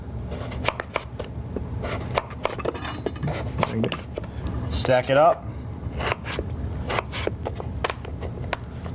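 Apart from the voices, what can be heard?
knife dicing butternut squash on a cutting board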